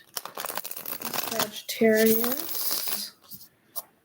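A deck of cards being shuffled by hand, giving a run of quick papery riffles and crisp flicks up close, with a person talking over and between them.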